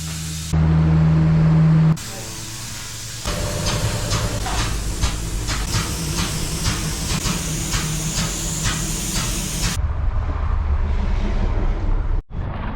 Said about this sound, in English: I think we're ready for our final spray.